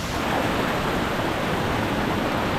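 A small waterfall on a creek spilling over sandstone, a steady broadband rush of falling water, close and continuous with no other sounds.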